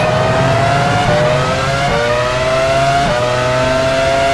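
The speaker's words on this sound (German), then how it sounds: "Alesi fährt an die Box." A Formula One race car in F1 Challenge 99-02, Alesi's Benetton pulling into the pits at the 2001 Canadian Grand Prix, its engine whining loudly and steadily with pitch drops at each downshift as it slows.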